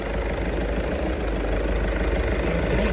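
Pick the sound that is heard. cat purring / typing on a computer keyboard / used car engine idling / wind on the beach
used car engine idling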